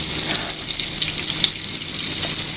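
Flower blossoms frying in a pan, giving a steady bright sizzle and crackle of hot oil that holds fairly loud and even throughout, with small pops rising here and there.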